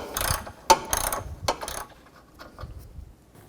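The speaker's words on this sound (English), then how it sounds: "I'm going to use a 21mm wrench on the bolt side and a 21mm socket on the nut side, and loosen it up and remove it." A 21mm wrench and socket loosen a front lower control arm bolt on a 2008–2014 Cadillac CTS, giving several close, quick bursts of ratchet clicking separated by short pauses, fading toward the end.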